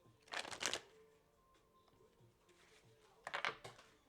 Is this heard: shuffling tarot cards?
yes